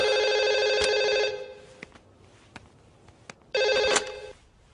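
A telephone rings in a comedy action film scene: a bright electronic ring bursts out, pauses briefly while faint clicks and rustles fill the gap, then rings again, loud and close.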